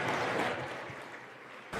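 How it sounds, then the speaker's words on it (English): An audience at a livestock show applauds the exhibitors after a class, a brief soft patter of clapping heard from a distance in a large arena, fading and then cut off. "let's give those exhibitors a round of applause"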